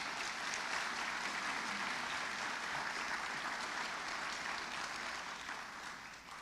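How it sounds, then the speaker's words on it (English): Sustained audience applause at a college student award ceremony, a dense wash of clapping that holds steady for several seconds before easing slightly at the end. "let's please give her a round of applause."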